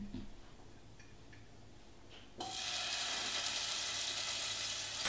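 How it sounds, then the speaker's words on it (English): Garlic drops into hot oil in a pan and bursts into a steady hiss of sizzling partway through, rising suddenly from a quiet kitchen and continuing evenly to the end. "we're gonna chuck the garlic in with the oil"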